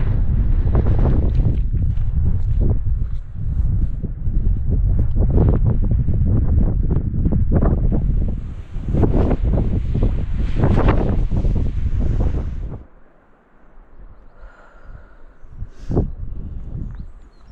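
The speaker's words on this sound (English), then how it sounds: "The wind is very, very fierce on this side." Strong wind on a mountain in the Glyderau, Snowdonia, roars loudly and steadily into the microphone with gusty surges for about twelve seconds, then drops to a fainter rush.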